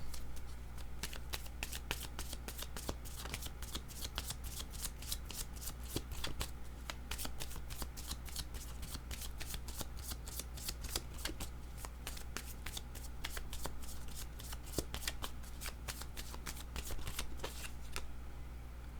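Tarot cards are shuffled in quick, crisp riffling clicks, a steady run of close, light snaps that continues with no talking.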